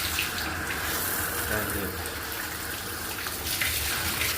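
Water runs steadily from a telephone shower in a newly fitted bathroom with LED lighting, a continuous hissing flow with good pressure heard close up throughout, with a brief spoken remark over it.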